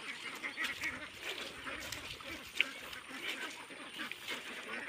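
Ducks on an open duck farm quack faintly and intermittently in the distance over a constant rural background hiss, with one sharp short call standing out midway.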